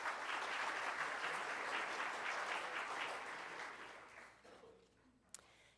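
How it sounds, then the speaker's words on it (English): Audience applause at a Rotary Club of Tulsa luncheon meeting, a dense, steady roomful of clapping that holds for several seconds, then thins and fades out, ending with one sharp isolated clap. "Let's give them a round of applause"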